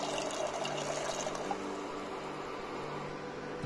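Half a litre of water poured into a pot for Kashmiri pink tea, a steady continuous splashing stream lasting several seconds with no talk over it.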